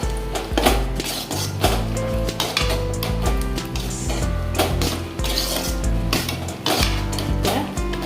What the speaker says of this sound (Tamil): இப்போ நம்ம எடுத்து நல்லா கிளறி விட்டுக்கலாங்க.